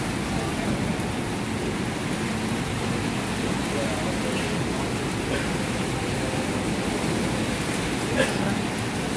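Heavy rain pours down on a Hong Kong street: a dense, steady hiss that stays loud and unbroken throughout, with no pauses.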